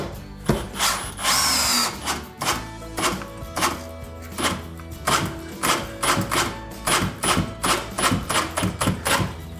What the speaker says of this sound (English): We got these 3-inch screws. We're just going to put one in the top.